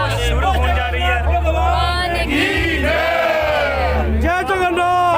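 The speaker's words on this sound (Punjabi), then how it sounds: "ਸਾਰੇ ਭਗਤ ਜਨ ਜੋ ਹੈ ਭਗਵਾਨ ਜੀ ਦੇ ਜੋ ਜੈਕਾਰੇ ਲਗਾ ਰਹੇ ਹਨ" A crowd of devotees at a Rath Yatra procession for Lord Jagannath raise loud, sustained chanted cries together, voices swelling and overlapping near at hand over a low rumbling background.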